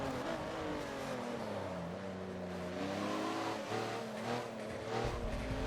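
Porsche race cars in Forza on the Hockenheimring, engines droning and shifting pitch steadily as they pass by, a sustained whining roar with no talk.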